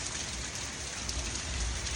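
Heavy rain pours down steadily, a dense, continuous hiss of drops close by with no pauses or voices.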